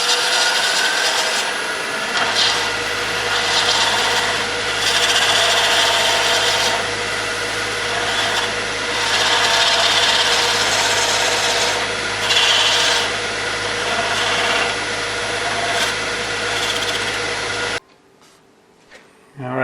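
A wood lathe cuts a groove steadily with a continuous rasping, scraping hiss over a low motor hum, then stops abruptly near the end.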